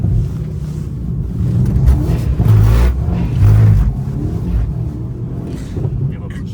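Mercedes C63 AMG engine pulling hard under acceleration, a deep loud drone that swells twice, heard from inside the car with wind noise, under brief speech.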